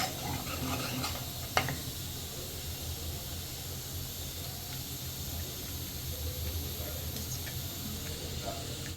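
Onion and garlic cook in butter and ghee in a pot for restaurant-style butter chicken, a soft steady sizzle and hiss with occasional stirring scrapes and one brief utensil knock, fairly quiet and close.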